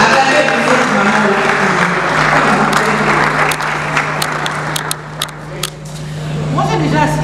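Audience at a Congolese church gathering applauding and cheering for a mother, with steady clapping and crowd noise under a constant low hum, thinning toward the end as a voice comes in.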